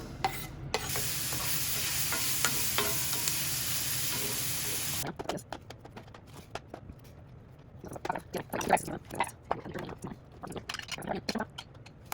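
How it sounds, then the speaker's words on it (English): Onions sautéing in a pan previously used for browning ground beef: a loud hissing sizzle for the first few seconds, then a quieter stretch of irregular clicks and scrapes from stirring, with no voices. "Saute these onions"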